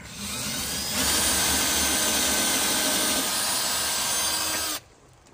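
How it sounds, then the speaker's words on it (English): A steady, loud power-drill whine runs continuously for several seconds while driving screws into a small bracket, then cuts off abruptly near the end. "we're drilling a little bracket here"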